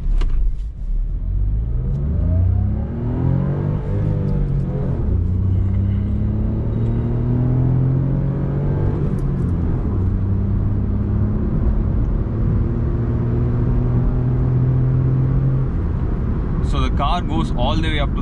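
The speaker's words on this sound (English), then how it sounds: "right now we're going to launch the car" Maruti Suzuki Baleno RS petrol turbo launches and accelerates hard, the engine note climbing through several gear pulls from inside the car, with a voice speaking near the end.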